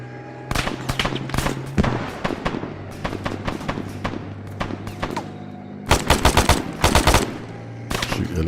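Rapid automatic gunfire in Arma 3 with the Antistasi mod, loud close bursts of rattling shots broken by short pauses, with a steady low hum beneath.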